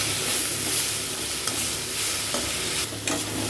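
Tomatoes sautéing in a pan for a mixed-vegetable chutney, a steady close sizzle with a spatula stirring and scraping now and then, no talk.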